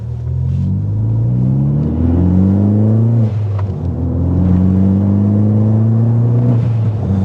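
Hard acceleration from a Ford Focus ST hot hatch: the engine note climbs loudly, drops briefly at a quick shift, then pulls and rises again, close and unbroken.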